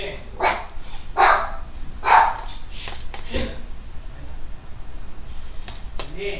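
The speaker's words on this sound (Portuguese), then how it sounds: "O cachorro latindo" A dog barks suddenly in the background of a home gaming session, with a few sharp barks early on and then quieter yips, heard alongside room noise and speech.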